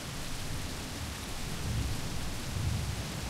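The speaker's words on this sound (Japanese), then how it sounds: "急に、雨足が強くなり雷が鳴り響いた。" Thunder rumbling over heavy rain in a visual novel game storm scene, low rolling swells rising midway and again near the end over a constant hiss of rainfall, with no voices.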